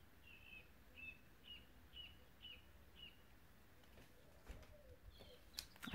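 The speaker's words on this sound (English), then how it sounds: "I'll leave you with the birds." Faint, evenly spaced bird chirps repeat about six times in the background of a quiet indoor resin-crafting session, ending with a few soft clatters and knocks.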